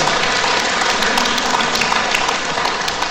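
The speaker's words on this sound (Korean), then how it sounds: "여러분 스스로를 박수 쳐주세요" A seated audience at a European Catholic Holy Spirit retreat lecture applauds itself, a dense steady wash of many hands clapping at even loudness throughout, with no voices standing out.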